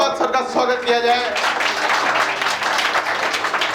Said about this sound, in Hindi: जोरदार तालियों के साथ सर का स्वागत किया जाए